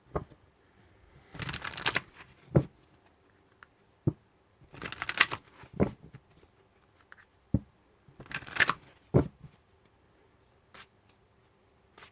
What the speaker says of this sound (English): So I'm going to get all the cards out